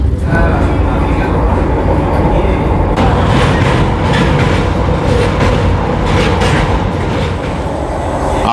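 A Vande Bharat Express with 20 coaches runs from Puri to Howrah, its steady rumble and rail noise loud and continuous throughout, heard from inside.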